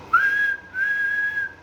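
Thomas the Tank Engine's whistle: two loud, clear, high whistle blasts in quick succession, the first rising into a steady tone and the second held a little longer.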